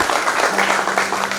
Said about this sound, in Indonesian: berikan tepuk tangan yang meriah bagi Tuhan Yesus